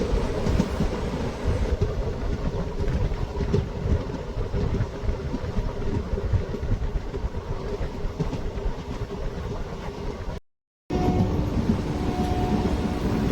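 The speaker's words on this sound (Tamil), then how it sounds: "Karaikal to Bangalore KSR Bangalore city express" Karaikal to KSR Bengaluru City Express passenger train in motion, a steady loud rumble of wheels and carriage noise running throughout with a brief dropout near the end.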